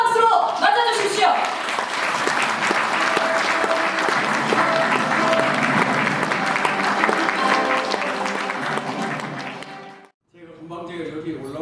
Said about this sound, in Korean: 한국 섬유업계의 최고 석학이자 산 증인 상암 김혜곤 박사님을 뜨거운 박수로 맞아주십시오.